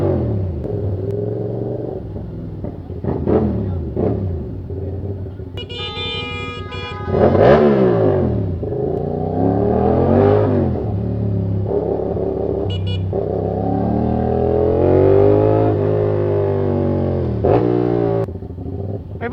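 Motorcycle engines from a 450SR and a Z900 rev and rumble at close range, with several rising and falling throttle blips over a steady low drone.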